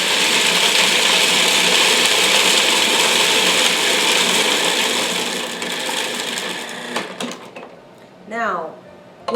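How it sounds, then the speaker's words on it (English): A food processor whirs loudly and steadily while blending raw vegan nacho ingredients, the dense motor roar holding for several seconds before winding down, followed by a brief voice near the end. "Now I'm just going to blend this in my food processor"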